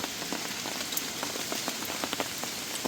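Heavy rain falls in a mountain forest, a constant dense hiss with scattered sharper drops pattering on nearby surfaces, fairly soft and with no voices.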